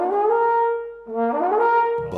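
A trombone slurs between notes with the unwanted in-between tones audible, a sustained brassy tone that smears downward then upward through intermediate pitches, played alone and fairly loud.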